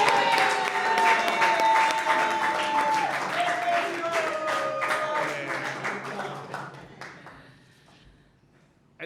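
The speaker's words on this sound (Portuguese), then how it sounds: "Uma salva de palmas." Guests at a civil wedding ceremony applauding, a dense, lively round of clapping under a speaking voice, gradually thinning out and fading to near silence by the end.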